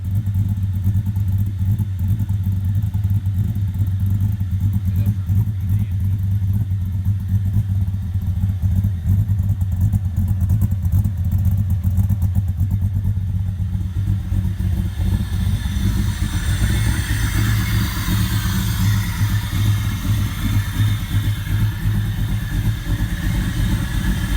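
A V8 LS engine swapped into a Mazda Miata idles continuously, a loud, close, lumpy rumble with a faint clattery edge and no voices over it.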